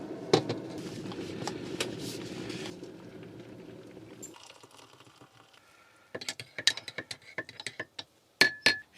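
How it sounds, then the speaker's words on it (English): An electric kettle inside a camper van rumbles and hisses as it comes to the boil for a few seconds. The noise then fades, and scattered clinks and small clattering handling sounds follow nearby. "excuse the noise of the kettle"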